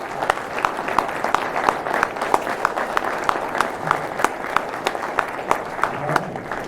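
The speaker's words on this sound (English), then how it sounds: "Let's give them a round of applause." An audience at a Hawkins County mayoral candidate forum applauds volunteer firefighters, giving a steady, dense round of clapping that carries through the whole stretch with crisp individual claps standing out, and a voice is faintly present underneath.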